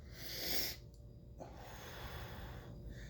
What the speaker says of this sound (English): you're breathing out fully